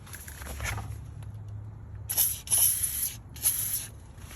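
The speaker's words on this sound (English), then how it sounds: "So the WD-40 on there." WD-40 sprayed onto the ball joint and tie rod of a 2017 Dodge Journey's front suspension, three short close hissing bursts after a low quiet background.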